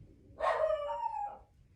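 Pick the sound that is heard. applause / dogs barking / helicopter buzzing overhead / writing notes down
dogs barking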